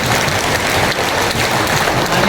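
Sustained audience applause fills the hall at a Marathi book launch ceremony, a dense, steady wash of clapping from a large crowd with no voices over it.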